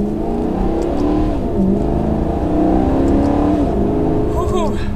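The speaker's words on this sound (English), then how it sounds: "I can already hear the exhaust rumble just a little bit." A Maserati GranTurismo Sport's exhaust rumbles steadily while it drives slowly on a road at about 10 mph, a continuous loud engine drone with shifting pitch and a brief rise near the end.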